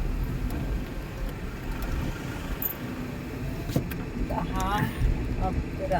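Traffic sits jammed on Ghodbandar Road as engines idle and vehicles rumble in a continuous low drone, broken by occasional horn-like tones and clunks, with people talking nearby throughout.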